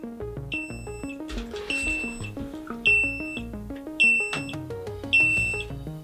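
The leak alarm in a Meikon underwater housing for a Sony A7II camera sounds over a backdrop of tonal music, giving sharp, high repeated beeps in short bursts, about five clear pulses spaced roughly a second apart.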